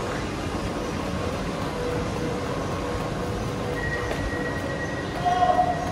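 A train sits at an Italian railway station, giving off a steady low rumble and mechanical hum with a faint tonal whine and a brief louder rise near the end.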